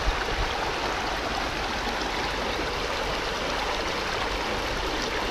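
A river current flows steadily, a dense, constant rushing of water close by with no pauses, heard alone without talk, at a spot used for gold panning.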